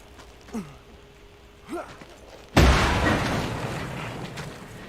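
A sudden loud blast in the Mad Max video game erupts after a couple of short soft whooshes, its rumbling debris trailing off gradually over the following seconds.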